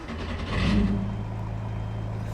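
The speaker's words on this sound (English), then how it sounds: "Wowzers, this car sounds mad." Porsche 911 GT3 engine in the racing game Assetto Corsa EVO at the Nordschleife, a short rev that swells and then settles into a steady engine hum, loud and alone.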